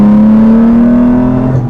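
Early Jaguar E-Type XK engine revving, a loud close steady drone that rises slightly in pitch, then eases and dips toward the end with no talk over it.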